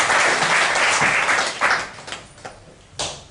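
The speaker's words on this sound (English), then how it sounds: "Give this gentleman a round of applause to go back to the" An audience at a live comedy mind-reading show applauds a gentleman returning to his seat, a loud burst of clapping that fades into scattered claps after a couple of seconds.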